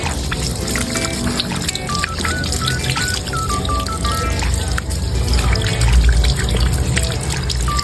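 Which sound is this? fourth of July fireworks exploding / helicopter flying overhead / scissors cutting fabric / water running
water running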